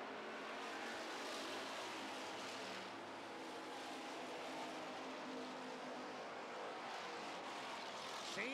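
Rental race cars and street stock race cars run side by side on a track, a faint, distant, steady engine roar with broadband hiss and no clear pass-by.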